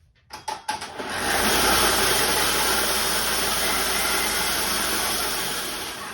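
A CVT electric bike rides in first speed: a few short clicks, then a steady motor whine and drivetrain hum rising in and holding close, slowly easing off toward the end, with no talking.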